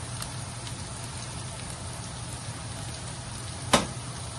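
Onions and turmeric frying in a pan while making poha, a steady soft sizzle running throughout with one brief sharper crackle or pop near the end, no voices.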